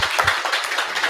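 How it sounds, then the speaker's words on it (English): Audience applause at the close of a robotics and AI club meetup, heard as a brief patch of scattered claps lasting about a second. "So once again, we can do applause for Felipe."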